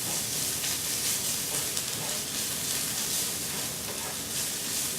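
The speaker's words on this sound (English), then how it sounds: "I'm going to add my garlic and stir that around for just a minute or two" Garlic sizzles steadily and loudly in a hot frying pan as it is stirred around, a dense, unbroken hiss lasting throughout with no talking.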